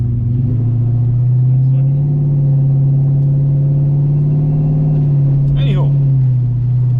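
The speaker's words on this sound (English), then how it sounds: "I highly doubt you can hear me because the car is loud." A car's loud engine and road rumble heard from inside the cabin while driving, a steady, droning hum lasting throughout, with a brief higher whine rising near the end.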